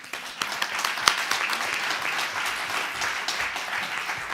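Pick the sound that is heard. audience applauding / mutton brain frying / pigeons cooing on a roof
audience applauding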